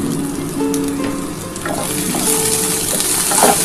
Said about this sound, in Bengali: এটা ভালো করে ভেজে নিই।